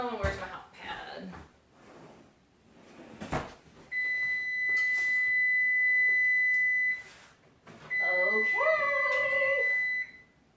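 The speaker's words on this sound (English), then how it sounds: "that's beeping, so let me get that out of the oven" An oven timer beeps in steady sustained tones, two long bursts separated by a short gap, with a person talking nearby before and between the beeps in a home kitchen.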